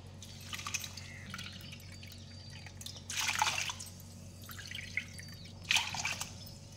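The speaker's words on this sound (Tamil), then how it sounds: "இந்த கப்லேயே வந்துட்டு ஒரு மூணு கப் வந்துட்டு தண்ணியை ஊற்றிக்கிறேன்." Water is poured over jaggery in a pan while preparing wheat athirasam, giving faint, close trickling and dripping in a few short bursts, with quiet gaps between them.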